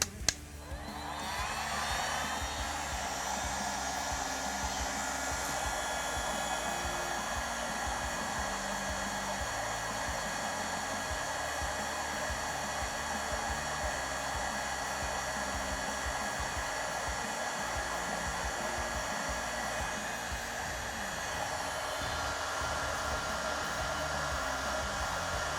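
A heat gun blowing hot air onto a thread-locked screw on an FN SCAR rifle to soften the Loctite, a steady loud whooshing hum after a quick click at the start, running on unbroken close by.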